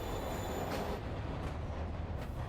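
A subway train in Marvel's Spider-Man rumbles steadily as a continuous roar, with faint squeals and rattles from the rail cars above the noise and no voices.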